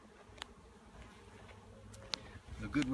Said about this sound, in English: Just a few bees flying around that branch up there.